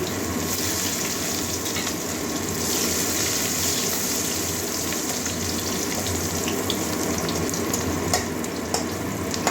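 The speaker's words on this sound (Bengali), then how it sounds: "দিয়ে দিচ্ছি পেঁয়াজ" Chopped onions sizzling and frying steadily in a pan for a Bengali potol, potato and carrot katla fish curry, a continuous dense crackle close up with no talking.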